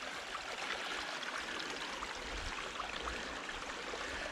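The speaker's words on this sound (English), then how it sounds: "So the trail's a bit of a creek here." A creek of stream water runs down a hiking trail loop in Baxter State Park in October, giving a steady, continuous rushing and trickling wash close by, with no talk over it.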